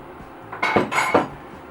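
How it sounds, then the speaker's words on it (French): Sugar spooned into lukewarm milk for vanilla yogurt: a spoon clinks against the bowl in two or three quick metallic knocks, close and fairly loud, then quiet. "Alors pour le sucre, je vais ajouter environ 2 grosses cuillères à soupe."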